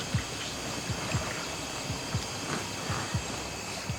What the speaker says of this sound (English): There's a lot of splashes going on.